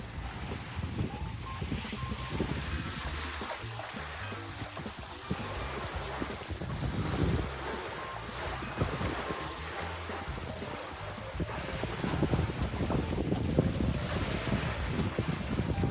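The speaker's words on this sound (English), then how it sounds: "Here we're running at around 6 knots speed over ground in 8 knots of wind, which is just off the beam." A Vision 444 sailing catamaran runs under sail at about 6 knots in 8 knots of wind just off the beam, with steady wind buffeting the microphone and waves rushing and splashing along the hulls throughout.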